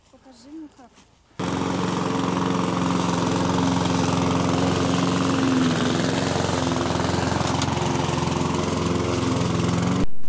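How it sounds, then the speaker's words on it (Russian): Walk-behind lawn mower engine running steadily on a village lawn of grass, a loud continuous drone with mechanical hum that kicks in abruptly after a brief bit of quieter sound at the start and holds for the rest. "с газонокосилкой она справится"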